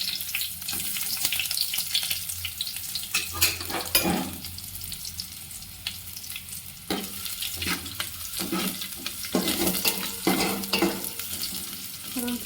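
Onions fry in oil in a pan for a sambar lunch, a close crackling sizzle broken by repeated scraping stirs and clanks, with some running-water hiss in the background and no voices.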